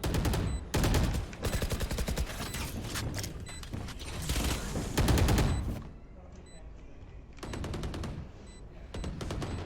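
Rapid gunfire from a competitive Valorant match, bursts of rifle shots in quick succession with mechanical clicks, loud and close, pausing briefly before further volleys, under excited shoutcaster-style commentary.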